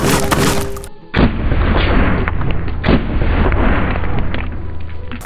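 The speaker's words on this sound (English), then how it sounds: "Shotgun? Shotgun. Shotgun." A single loud shotgun blast fired into a pumpkin outdoors at Halloween, a sharp boom with a short rolling echo, followed by a second fainter report and ambient noise.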